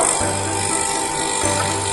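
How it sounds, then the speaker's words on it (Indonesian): An electric paper drilling machine runs with a steady, loud motor whir and high-pitched whine, with low humming pulses rising and falling, close and continuous, without talk. "Lalu kita akan coba nyalakan mesinnya. Oke, mesin nyala. Kita akan coba untuk ngebor."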